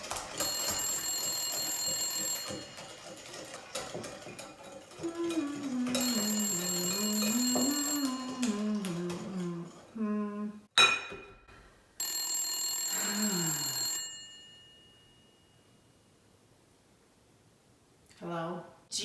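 A telephone rings repeatedly in a home kitchen during baking, with a melodic ringtone mixed with voices and music, then pauses and briefly resumes at the end.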